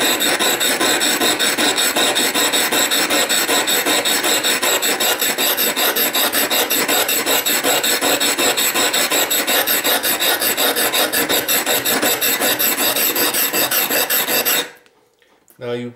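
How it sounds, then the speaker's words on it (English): A knife blade being ground on the corner of an old, cheap bench stone, a loud continuous harsh rasping scrape with a rapid back-and-forth rhythm that runs steadily for about fifteen seconds, then stops abruptly. "you can get them out relatively quickly just with the corners on an old bench stone"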